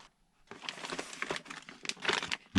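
Plastic parts bags from an Orlandoo OH32N01 trailer model kit crinkle up close in quick, uneven bursts for about two seconds, ending in a louder rustle.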